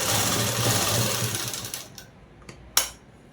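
A sewing machine runs a box stitch on a collar-neck dress, buzzing steadily for under two seconds before cutting off, then a couple of crisp clicks follow in the quiet.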